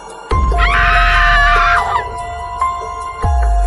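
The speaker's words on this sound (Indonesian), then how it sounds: "suara jeritan keras terdengar sebelum layar menjadi hitam" A loud, high scream rises suddenly and holds for about a second and a half over a low rumbling drone, set against sharp clicks and hard thuds in an eerie horror scene.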